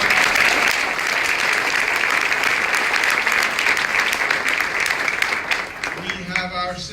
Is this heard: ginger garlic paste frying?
no